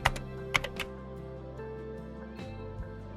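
Keys tapped on a computer keyboard in a quiet indoor room, a few sharp clicks near the start followed by faint, sparse keystrokes over a low steady hum, close and without any voice.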